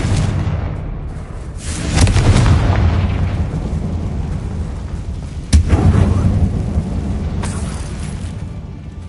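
A Confringo fire spell explodes inside an abandoned mine in the Hogwarts video game, a loud booming blast with a rumbling burst near the start and another sharp hit midway, over a continuous low roar.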